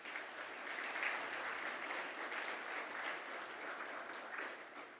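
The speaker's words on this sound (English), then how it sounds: "So please give these folks a round of applause." An audience at a youth sports club parents' meeting claps in a steady, moderately distant round of applause that swells slightly and holds throughout, with no talk over it.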